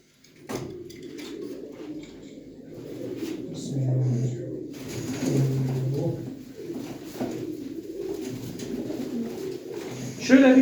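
Pigeons coo in low, throaty bursts through most of the stretch, near and moderately loud, with a few scattered clatters and a sharper knock at the very end.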